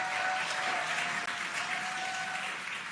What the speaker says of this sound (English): You can hear the crowd here.